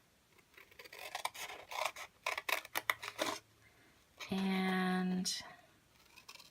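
Scissors cutting paper card along a score line, heard as a series of close, crisp snips and rasping strokes, followed by a short steady tone, with a voice talking quietly.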